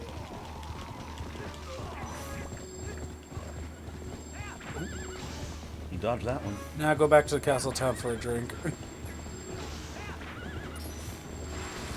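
Spirit horses from Zelda: Twilight Princess neigh and gallop in a burst of clip-clop and whinnying near the middle, over steady game music, with someone talking throughout.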